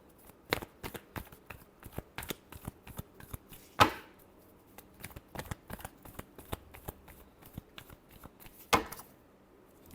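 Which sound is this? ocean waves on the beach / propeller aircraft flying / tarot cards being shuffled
tarot cards being shuffled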